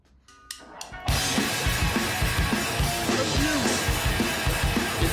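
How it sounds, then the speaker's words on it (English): A hardcore punk recording begins with a few sparse hits, then bursts into full-band playback: driving drums and distorted guitars under a heavily reverberant vocal, loud and dense throughout. "There's loads of reverb on the vocal."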